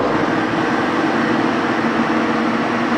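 A 16 x 40 servo metal lathe with a 9-inch three-jaw chuck runs at 130 RPM, giving a steady, loud mechanical hum with an even broadband whir and no breaks.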